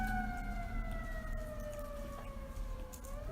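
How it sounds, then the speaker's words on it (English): Fire engine siren passing outside, a wailing tone gliding slowly downward as it moves away, moderately distant and heard alone above a low rumble of traffic. "also listening to the fire engine"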